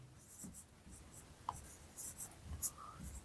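Chalk or marker scratches and taps on a classroom board in short, faint strokes while a physics derivation is written, with soft muffled speech in the background.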